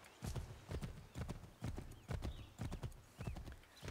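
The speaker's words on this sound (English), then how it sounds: "do I got a horse? I do have a horse." Horse hooves clip-clop in Assassin's Creed 3 Remastered, a brisk, steady galloping beat of close, crisp hoof strikes with faint game ambience behind.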